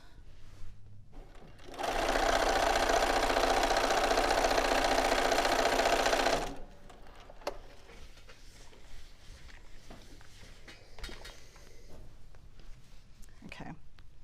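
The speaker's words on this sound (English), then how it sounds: "And next I'm going to sew this." A sewing machine stitching a quilt runs in one steady, loud burst of about five seconds, then stops, followed by quiet handling noises nearby.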